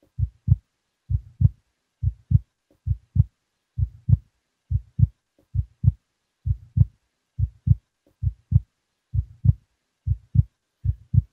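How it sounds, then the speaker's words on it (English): Heartbeat sound effect played at a beatbox battle quarter-final while the crowd waits for the judges' decision: steady, loud lub-dub double thumps repeating about a dozen times alone, with no talk. "The heart's beating because we are waiting to find out"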